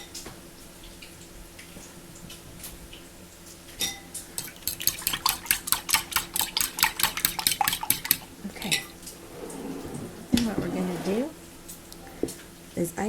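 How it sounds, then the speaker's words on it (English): A utensil clinks rhythmically against a bowl while pancake batter is stirred from scratch, a quick run of close metallic taps and scrapes with a brief splashy swirl near the end. "I'm just going to mix this."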